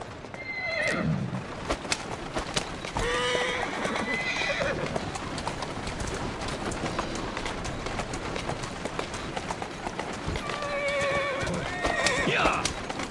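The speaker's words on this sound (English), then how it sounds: "Who's a good horse. You are." A horse in Assassin's Creed Syndicate whinnies over the steady clip-clop of its hooves, with a second neigh near the end and faint birds in the background; a voice speaks briefly in between.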